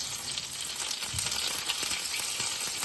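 Mashed potatoes bubbling and sizzling steadily in a pot on the stove, a soft continuous hiss with occasional faint pops, close by and alone.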